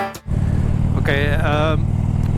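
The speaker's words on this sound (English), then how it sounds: "the engine or the exhaust is a bit loud" A 2009 Harley-Davidson Street Glide motorcycle engine and exhaust drone loudly and steadily at a low idle-like rumble close by, with a person speaking over it.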